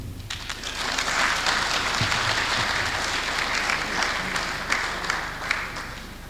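An audience at an investors' forum applauds the Managing Director of BIPC with steady, dense clapping filling the room, sustained and fairly distant, with little talk.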